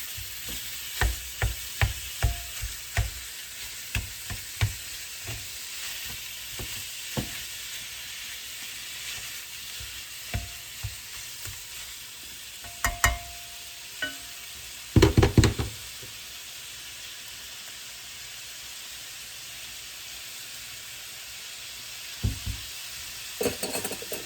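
A pound of not-lean ground beef browning in a pan, steady sizzling hiss throughout, with scattered knocks and scrapes of stirring, close and moderately quiet.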